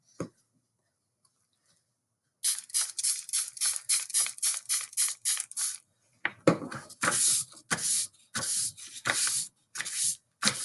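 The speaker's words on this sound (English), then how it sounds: "So I'm actually going to spray another piece of paper." Aerosol spray paint hitting a sheet of paper, a run of short rhythmic hissing bursts, then longer, louder irregular sprays after a brief pause, close up with no talk.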